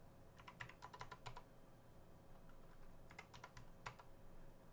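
Numbers typed on a computer keyboard during video export settings, two short bursts of quick, light key clicks separated by a pause, fairly near and alone over a faint background hum.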